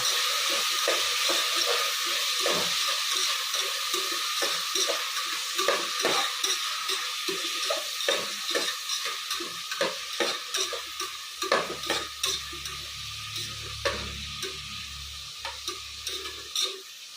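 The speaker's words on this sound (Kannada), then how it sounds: "ಇದು ಎಣ್ಣೆಲ್ಲೇ ಸ್ವಲ್ಪ ಚೆನ್ನಾಗಿ ಫ್ರೈ ಮಾಡ್ಕೊಬೇಕು" Broken cluster beans frying in oil for a masala kurma, a continuous close sizzle punctuated by regular spatula scrapes and knocks against the pan, with no talking.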